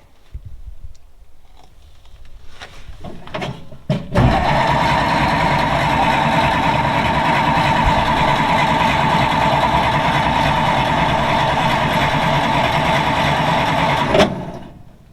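The engine of a 1940s Dodge army truck that has sat for over 30 years cranks loudly for about ten seconds in a steady churning drone, after a few brief clicks and stutters, then cuts off abruptly.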